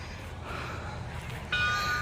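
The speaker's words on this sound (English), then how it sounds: "Somebody's ringing the bell" A bright, ringing bell tone enters partway through, sustained over a steady background hum and noise.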